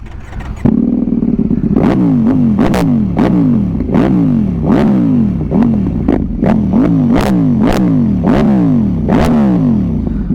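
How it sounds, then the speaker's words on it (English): A loud Ducati V4S motorcycle engine with an aftermarket exhaust revs repeatedly in rising bursts, throttle blips stacking with a rough exhaust burble, close by and continuous throughout. "Let's fire up this Acura exhaust."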